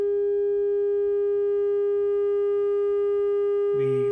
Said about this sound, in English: we start to get a sine wave